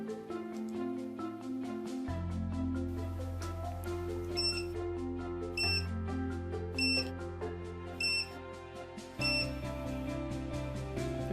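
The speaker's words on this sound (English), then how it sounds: "the MUSE has responded with a series of beeps and a slight move of the media" A MUSE vinyl cutter lets out a series of short, high, clean beeps at fairly regular intervals. They sound fairly quiet over steady background music.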